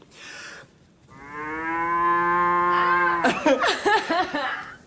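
A person imitates a cow's moo, one long, loud, sustained lowing call that breaks into a wavering, throaty finish, with no talk around it.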